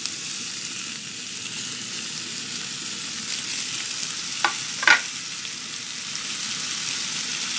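Oyster mushrooms stir-frying in a pan with fragrant scallion bases give a steady, soft sizzle with a couple of brief scraping stirs near the middle. The sound stays close and even, with no voices.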